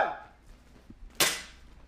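An airsoft gun fires a single sharp, close snap during a back-to-back duel, following a brief quieter sound and then fading into near silence.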